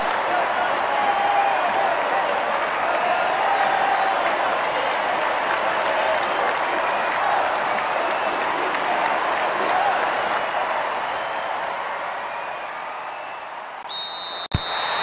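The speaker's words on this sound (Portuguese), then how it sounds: "Enquanto isso, a torcida faz a festa" A stadium crowd in the soccer game Winning Eleven 6 roars and claps in a dense, continuous wash of noise that fades slightly near the end, with a commentator speaking over it.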